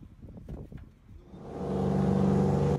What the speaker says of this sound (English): sometimes by a car on a boat